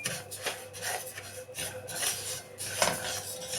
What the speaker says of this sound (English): So you have to keep on stirring, because if you don't, it will burn